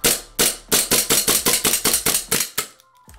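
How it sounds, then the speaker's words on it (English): A green gas airsoft handgun dry fired in a rapid string of about ten sharp, loud, evenly spaced cracks, close and alone, trailing off as the gas runs out. "I'm gonna dry fire it just to prove it works"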